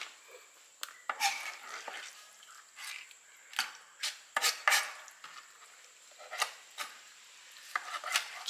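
A knife cuts through lobster shell and flesh into small pieces on a board, with sharp, irregular clicks and taps close up in an otherwise quiet kitchen.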